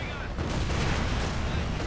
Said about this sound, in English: close range Katusha barrage gets a great hit there